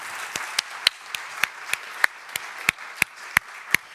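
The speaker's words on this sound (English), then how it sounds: "please give everybody here a very big, warm round of applause, but particularly Omega, Sonia, and Rania" Scattered, sparse clapping from a conference audience after a panel at an education in emergencies event, about a dozen distinct claps spaced unevenly, fairly quiet and close.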